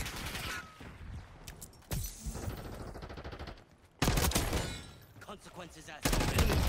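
Bursts of automatic gunfire crackle in a first-person shooter video game match, loud rapid volleys separated by quieter gaps, with a player's voice talking in between.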